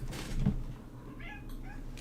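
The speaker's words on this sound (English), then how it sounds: "Oh, I heard a meow." A cat meows a couple of times nearby, short tonal cries rising over a quiet room with faint background noise and no talking.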